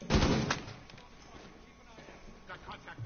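Gunfire through a wall in Rainbow Six Siege opens with a loud, heavy burst that trails off, followed by a few softer muffled shots, with indistinct voices mixed in.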